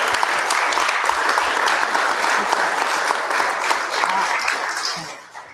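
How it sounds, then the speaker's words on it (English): Steady applause from a council meeting audience, sustained and dense for several seconds before tapering off at the end, with no voices over it. "Everyone give them a round of applause."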